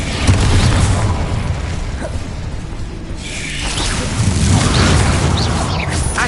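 In Hogwarts Legacy, an Incendio fire spell is cast amid combat, a loud sustained whoosh and roaring burst that dips briefly midway before swelling again with crackling blasts.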